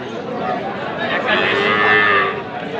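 Cattle and calves moo loudly at a livestock market, long low calls rising and falling, with faint crowd murmur behind them.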